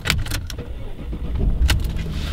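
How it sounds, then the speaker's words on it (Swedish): Jaguar XJ X350 engine starting: a brief crank and catch with a few sharp clicks and clunks, then a low idle rumble close by. "När man sen startar bilen igen"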